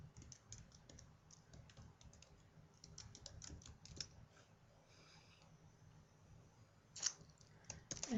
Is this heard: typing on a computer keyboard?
yes